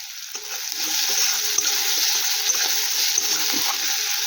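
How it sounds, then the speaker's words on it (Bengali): Pumpkin seeds sizzle and crackle in a hot pan, a steady frying hiss broken by scraping stirs and small pops, close and alone without talk. "আজকে ডিঙলি বীজটা ভাজছি, কুমড়োর বীজ ভাজছি।"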